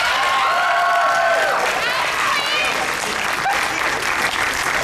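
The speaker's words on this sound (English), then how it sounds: "can I please have a round of applause for Queen Chrysalis?" A convention crowd at Everfree Northwest 2024's Cartoon Court bursts into loud, sustained applause for Queen Chrysalis, with whoops and cheering voices rising over dense clapping that holds steady throughout.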